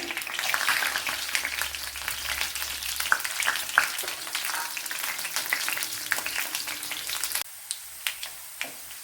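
Garlic fries in hot oil for a bitter gourd pickle, giving a steady, dense crackling sizzle. Near the end it thins out to a few scattered pops.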